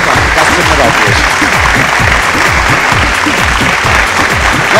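Loud, dense applause welcoming award guests at the grand finale of a Bhojpuri singing competition show, with voices chanting and calling out over the continuous clapping.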